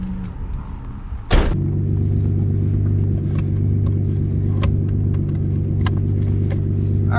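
Nissan R32 Skyline GTS-t drift car with an RB20 engine starting with a sharp crank and catch, then settling into a loud, steady, close idle rumble that carries on to the end.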